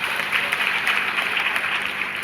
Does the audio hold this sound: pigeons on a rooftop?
no